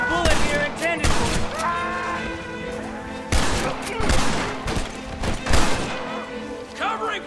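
A Western shootout in Red Dead Redemption crackles with scattered rifle and pistol shots, sharp loud cracks coming in clusters with echoing tails, while voices shout over the firefight.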